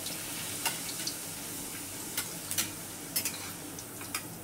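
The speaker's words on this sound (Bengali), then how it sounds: "পাঁপড়গুলো ভাজা হয়ে যাচ্ছে খুব সুন্দর, কেননা তেলটা খুব সুন্দর গরম হয়েছে" Papads fry in hot oil with a soft, steady sizzle, broken by sharp scattered crackles and pops that come faintly and irregularly, with no talking.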